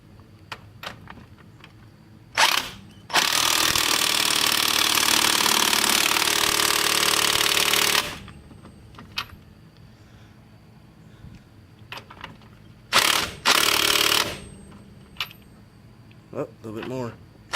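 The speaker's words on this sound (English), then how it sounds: "we're going to take our impact and we're going to tighten it down" A pneumatic impact wrench tightens the outer tie rod nut on a 1998 Saturn SL2, loud and close: a short burst, then a long sustained hammering run of about five seconds, and later a second short burst, with clinks of tools between.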